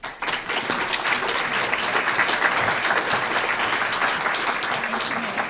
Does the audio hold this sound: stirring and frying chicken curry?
no